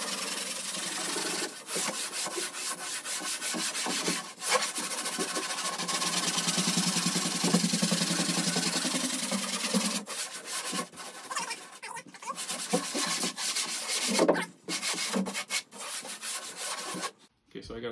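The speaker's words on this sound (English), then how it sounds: "I'll take some 40 grit sandpaper and just on a block" Sandpaper rated 40 grit on a block is rubbed over a high ridge on a carbon fiber car body in a home garage, producing continuous rasping strokes that are loud and close, with a few brief pauses.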